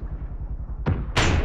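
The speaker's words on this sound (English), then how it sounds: "So now this mortar here is going to fire 4 rounds off in quick succession." In ARMA 3, a mortar launches rounds: a low rumbling lead-in, then two sharp, loud firing thumps close together near the end, with no voices.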